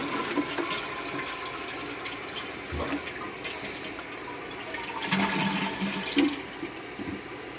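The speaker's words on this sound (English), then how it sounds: "so the flush will be exactly the same as it was before this was installed" A household toilet fitted with a Magic Water Saver flushes with a rushing swirl of water, then the tank refills with a steady hiss and trickle, close by and continuous throughout.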